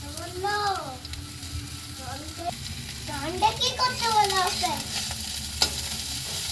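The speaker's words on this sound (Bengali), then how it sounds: "আমি কপিগুলো কিন্তু ভালো করে আগে ভেজে নেব" Small cut cauliflower pieces fry in a pan with a continuous, moderate sizzle. Voices, including a child's, talk over it.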